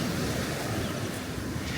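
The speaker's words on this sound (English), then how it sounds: "Look at the waves." Waves break and wash continuously on Southwold beach, a broad, steady roar of surf mixed with wind buffeting the microphone, heard close and loud with no voices.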